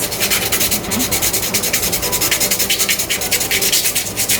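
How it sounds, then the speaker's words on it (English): Sandpaper scrubs back and forth over a rustic wooden wall hanging, a close, steady rasping hiss in quick rhythmic strokes, loud and continuous with no voices. "all I'm doing is taking sandpaper and running it along various spots"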